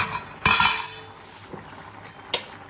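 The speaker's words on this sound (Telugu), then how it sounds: "ఇంకాసేపు వీటిని ఉడకనిద్దాం మూత పెట్టేసి పెడదాం" A metal lid is set onto a pot of vermicelli payasam cooking on the stove, giving a sharp clattering clang, then a fainter clink and another bright tap, close by with no talk.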